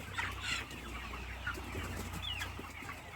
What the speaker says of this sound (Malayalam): ആയിരത്തോളം വരും കോഴി